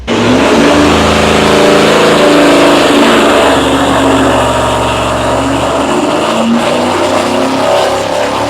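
A supercharged Ford Flathead V8 roars loudly on a dyno pull, revving hard and sustained for several seconds before its pitch shifts and the engine eases slightly near the end.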